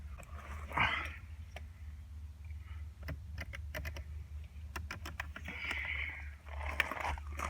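Crackers being crunched and chewed up close, a series of crisp, irregular bites and crunches over a steady low hum.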